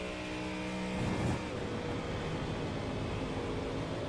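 A 5-litre V8 GT3 race car engine in a sim racing game at Spa-Francorchamps drones steadily and loudly throughout, with a brief surge near the one-second mark.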